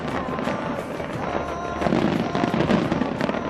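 Environmentally friendly fireworks burst at the Taipei 101 New Year celebration, a dense run of crackling pops and booms that grows louder in the second half.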